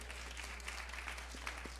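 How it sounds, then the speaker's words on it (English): A church congregation applauding, a short steady patter of many hands clapping at low level, fairly distant and even throughout. "She know we clapped for her"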